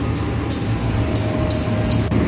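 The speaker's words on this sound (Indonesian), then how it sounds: "Itu kereta api jarak jauh yang ke arah Pasar Senen di jalur 6 udah berangkat" A long-distance train bound for Pasar Senen pulls out of Jatinegara station on track 6, a loud continuous rumble with several evenly spaced wheel clacks over rail joints and no talking.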